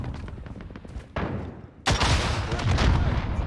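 A rocket launcher fires in Call of Duty Warzone, one sharp thump followed by a second, louder blast that rumbles on, close and heavy.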